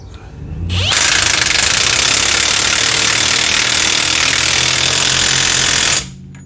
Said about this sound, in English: But if you use an impact like I just did, you won't have to worry about that.